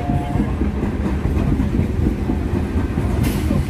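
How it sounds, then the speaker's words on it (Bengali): Train cars of a Tarakeswar–Howrah local roll by near a railway gate, loud continuous rumble with rhythmic clickety-clack of wheels on track joints, no voices. "ট্রেনের আওয়াজ শোনা যাচ্ছে। এই ট্রেনটা তারকেশ্বর থেকে হাওড়া যাচ্ছে।"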